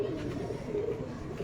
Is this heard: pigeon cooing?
yes